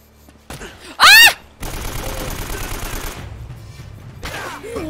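AK rifle fire in Uncharted: Drake's Fortune erupts as a dense rattling burst of shots lasting a couple of seconds, preceded by a sharp loud cry and followed by quieter scattered game noise.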